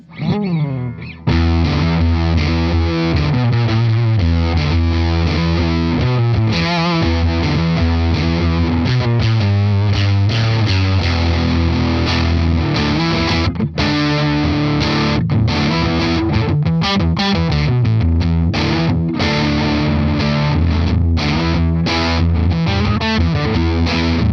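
A heavily distorted electric guitar through a Glut Cheeks fuzz pedal with gain turned up plays a riff with sustained chords and quick note runs, loud and continuous.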